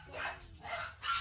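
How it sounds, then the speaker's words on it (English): Pet dogs bark indoors in a home, three barks spaced evenly over a second, moderately loud and somewhat distant, with no talking. "My doggies are barking."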